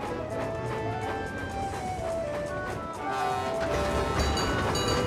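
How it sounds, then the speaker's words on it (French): Toby the tram engine from the Thomas cartoon rolls along the rails with a steady clatter and rumble, continuous and fairly loud, under a musical score. "Vous connaissez tous Toby, c'est le petit tramway de Chicalor."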